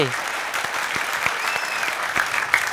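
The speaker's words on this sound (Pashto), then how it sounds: "خب په زوره چکچکې" An audience at a tenth-anniversary special show in a studio breaks into steady, dense applause, many hands clapping together in a continuous wash close to the microphone.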